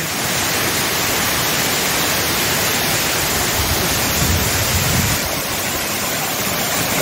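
Tons waterfall in Rewa, a broad, steady roar of rushing, falling water, loud and continuous throughout with no break or pause and no voices.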